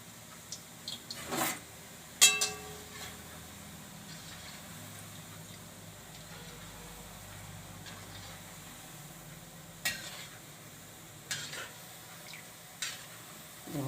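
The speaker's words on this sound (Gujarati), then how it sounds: "તો આ રીતે આપણે બધા તળી લઈશું." Gulab jamun dough balls frying gently in ghee over low heat give a quiet, low sizzle broken by a few sharp clinks and scrapes of a utensil against the pan, heard close with no voices.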